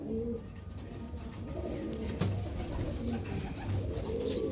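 Several pigeons at a loft stand keep up a low, rolling coo throughout, close and fairly loud, with one brief sharper sound partway through and no talking.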